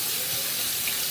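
Tap water runs steadily into a sink while chicken gizzards are rinsed, a constant close splashing gush with no pauses.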